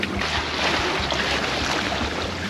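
A sailboat heads out from Nida on the Curonian Lagoon under sail and motor, a loud, steady rush of wind and water against the hull with a low engine drone underneath, and no voices.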